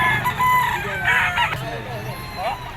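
A Golden Boy Sweater gamefowl rooster, an early bird banded, crows nearby in a loud, drawn-out call, with other fowl clucking and faint voices in the background.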